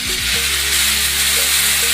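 Tomatoes with salt frying in a pan over lowered gas, a loud, even hiss of sizzling oil with a brief clatter at the start, no voices.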